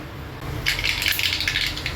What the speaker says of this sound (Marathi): मोहरी छान तडतडली आहे